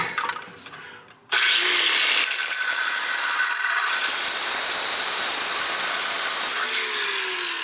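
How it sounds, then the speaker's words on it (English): A power tool grinds off an old, corroded toilet flange bolt during a wax seal replacement, a loud continuous abrasive whine that starts abruptly after a quiet moment and runs steadily to the end. "We'll have to grind this one off."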